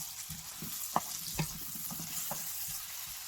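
Minced onion and garlic fry in a pan over full heat for a sweet chilli squid dish, making a continuous close sizzle broken by a few soft stirring knocks. There is no talking.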